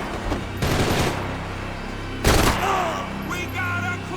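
Bursts of automatic gunfire in the video game Max Payne 3, a long rattling volley followed by a second loud burst, close and dense, with game effects trailing after.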